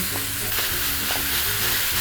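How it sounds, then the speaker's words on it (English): Continuous crackling sizzle of pork frying in a hot dry pan, steady and close, with light scraping from stirring. "So dry frying pan, pork goes in."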